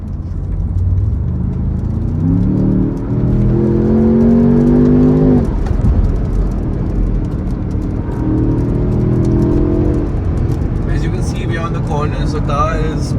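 A sports car engine pulls hard on a monsoon drive near Lonavala. It rises twice in pitch through the revs over constant loud road and cabin rumble, then settles back between the pulls.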